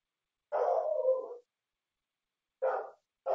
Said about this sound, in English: My dog heard your dog.